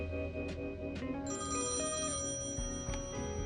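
An old-style telephone bell rings in the adventure game Thimbleweed Park, sounding in short repeated bursts over a soft, tonal musical background.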